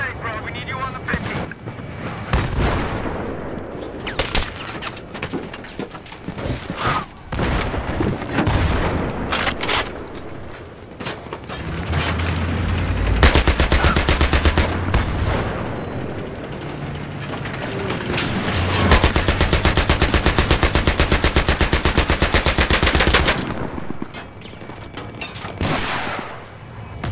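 Heavy .50 caliber machine gun fire from a tank in Battlefield 3, long loud rattling bursts broken by short pauses and mixed with explosions and mechanical clatter, while voices talk over the action.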